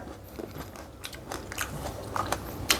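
Close crunchy bites into fresh, crisp green mango, a few sharp crackling snaps spread over a few seconds against a quiet background, with no talking.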